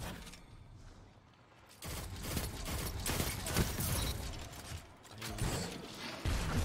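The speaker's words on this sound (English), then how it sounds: "now I'm gonna reload" Pulse rifle reloading in the shooter game Destiny, a quick mechanical clatter of clicks and ratcheting parts, followed by bursts of gunfire and game effects, fairly quiet overall.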